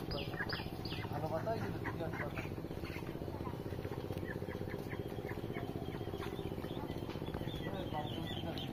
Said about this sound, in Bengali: কত অনেক হাঁসের বাচ্চা।